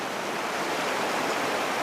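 Fast-flowing water in a trout stream rushes with a steady, dense broadband hiss, close and constant, with no voices.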